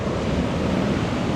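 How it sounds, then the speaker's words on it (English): Rough, stirred-up sea water at Boynton Beach, Florida, a steady loud roar of surf and wash with wind buffeting the microphone, continuous throughout and without any speech. "Water's all stirred up out here today."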